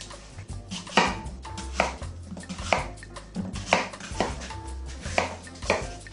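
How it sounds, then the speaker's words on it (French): Knife chopping apples into small pieces on a cutting board, a steady run of sharp, close, fairly loud chops in uneven bursts, with no talking. "L'idée c'est de les couper assez petits pour que je puisse les mixer facilement."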